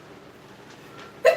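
During a live online Dungeons & Dragons session, a person gives a single sudden sneeze right at the end after near-quiet room tone, loud and abrupt.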